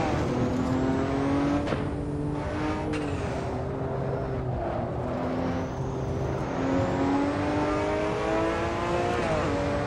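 Ruf RT12 R AWD engine in the Assetto Corsa racing game, a steady droning whine that climbs and drops through gear changes, loud and continuous for the whole stretch with no talk.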